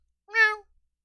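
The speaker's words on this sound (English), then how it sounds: "That meow was for you." A single short, clear cat meow, close and alone, in a quiet room.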